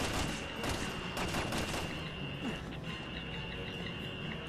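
Dense, rapid gunfire from a Resident Evil 6 gameplay firefight, a continuous rattling barrage of overlapping shots at moderate loudness with no pauses.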